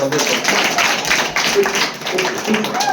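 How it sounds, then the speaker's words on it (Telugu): Hands clap together in a quick, steady run of bright slaps at close range while people talk over them. "చప్పట్లు కొట్టమ్మ."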